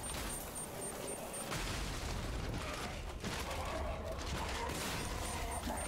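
Rapid bursts of explosions and gunfire-like blasts in the video game Lies of P, dense and overlapping with sharp impacts, mixed with faint game mechanisms at a moderate level.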